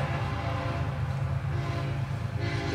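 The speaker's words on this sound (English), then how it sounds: "Got a train ripping by right now." A train ripping past near McMinnville, a loud steady low rumble with heavy rolling roar that holds throughout, brightening slightly toward the end as it passes close by.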